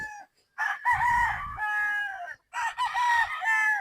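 A three-year-old Boston Black gamefowl rooster crows loudly and close by, in two long, strained calls separated by a brief pause.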